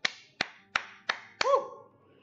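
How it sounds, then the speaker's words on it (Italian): Five sharp claps spaced evenly, loud and close, followed by a brief swelling tone that fades out. "Un applauso a Noccogliere."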